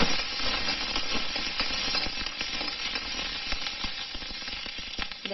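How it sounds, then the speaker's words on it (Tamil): Green chilies sautéing in a pan for mushroom chutney, giving a close, continuous sizzle and crackle with faint stirring and no talk. "இது வதங்கிட்டே இருக்கும்போது பச்சை மிளகாய் கட் பண்ணி இதில் சேர்த்துக்கலாம்."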